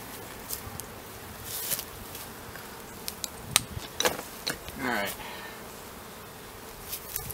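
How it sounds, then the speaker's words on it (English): Honey bees swarm around a relocated feral hive during an inspection, a soft, steady buzz with individual bees droning close past at intervals, alongside faint clicks and handling sounds. "There's still a whole bunch of bees in here"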